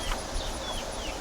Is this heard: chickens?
yes